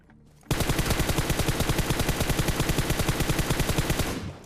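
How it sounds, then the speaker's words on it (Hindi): Video game automatic gunfire erupts after a brief quiet start, a fast, even burst of repeated shots that stays loud and close for several seconds before cutting off. "बहुत दूर भाई पीछे से वो बंदा फायर कर रहा है।"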